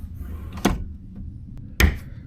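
A self-closing drawer in a cruise ship veranda cabin shuts twice: a soft thud with a short clack, then a second louder knock a second later, in a quiet room.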